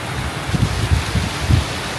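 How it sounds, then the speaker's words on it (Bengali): Heavy rain arriving with strong wind: a dense, steady hiss of rainfall fills the air while low, rumbling gusts buffet the microphone in uneven surges, loud and close throughout. "এই যে এবার প্রচুর পরিমাণে বৃষ্টি চলে আসছে বন্ধুরা"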